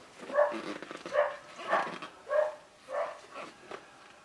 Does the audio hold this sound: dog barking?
yes